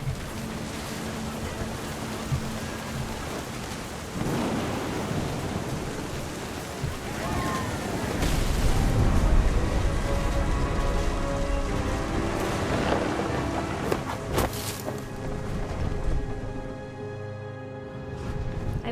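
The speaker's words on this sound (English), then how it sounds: "The thunder sounded much too close and full of angry power." Steady heavy rain pours through a stormy scene in the video game What Remains of Edith Finch, with rolling thunder rumbling up near the middle and a sharp crack later, no speech.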